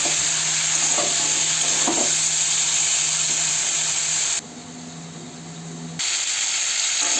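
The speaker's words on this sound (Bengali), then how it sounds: "সবজিগুলো ভাজা হয়ে গেছে" Vegetables fry in a pan for a thin fish curry, giving a loud, steady sizzle with stirring scrapes, briefly dropping quieter for a moment before the full hiss returns.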